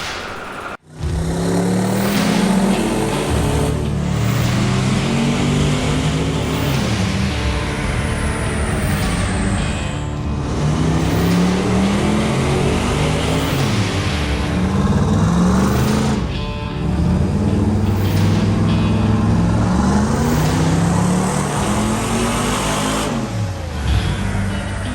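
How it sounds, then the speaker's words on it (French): The Anvil show car's engine revs hard on a dyno, climbing through repeated rising sweeps with brief drops between them, loud and close the whole time. "Le Anvil, le show car, il va se faire mettre sur le dyno."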